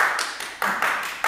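A single pair of hands claps out a beat, with roughly six to seven sharp, close claps spaced at slightly uneven intervals in a quiet room.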